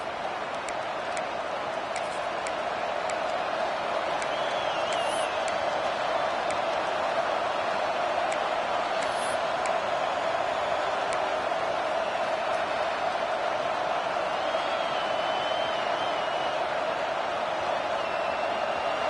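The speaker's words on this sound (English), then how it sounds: "This crowd ready to make its presence known." Crowd at a Washington vs TCU college football game, a steady, broad roar filling the stadium throughout as a drive starts after kickoff, with faint whistles above it.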